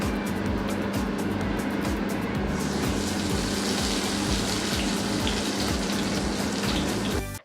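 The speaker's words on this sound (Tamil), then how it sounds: "அதில் சோம்பு சேர்த்து நல்லா தாளிச்சிக்கோங்க." Fennel seeds tempering in hot oil in a pan, cooked for a Thanjavur-style egg vada curry, give a steady, close crackling sizzle that runs unbroken and then cuts off abruptly at the end.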